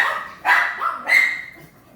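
Two sharp, high-pitched barks from a nearby dog, separated by a short pause, each trailing off into a brief whine.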